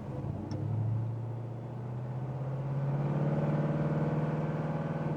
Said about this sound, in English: Listen to the sound of that big 427